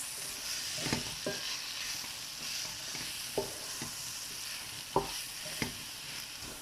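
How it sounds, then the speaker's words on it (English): Fried paneer being stirred into sauce in a pan for chilli paneer, a constant close sizzle broken by several sharp spoon-and-pan clacks as it is mixed, with no voices. "Now I'm going to add the fried paneer. Give it a good mix."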